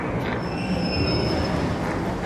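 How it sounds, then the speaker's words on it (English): In the Arc Raiders video game, a train pulls in at a platform and its doors open: a steady loud rumble of wheels on rails with a thin high squeal sustained over it. "Train is on the platform, opening doors."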